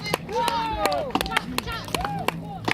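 Sharp axe chops ring out in an irregular rhythm as competitors hack through wood blocks at a lumberjack festival, layered under an announcer's voice and a cheering crowd.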